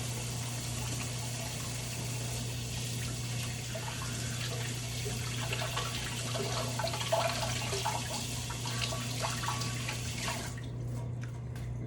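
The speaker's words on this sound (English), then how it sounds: "So I'll wash my hands here again because we're touching raw eggs." Hands are washed under a running kitchen tap after handling raw eggs: a steady, even rush of water with a low hum beneath, then the flow stops abruptly near the end, leaving a few faint drips.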